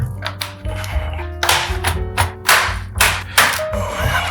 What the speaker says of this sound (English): So we have to use something plasticky to open this up.